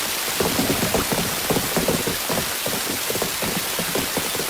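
Rain falls steadily on surfaces outdoors during a festival, a constant hiss with clustered patters of heavier drops and no talking.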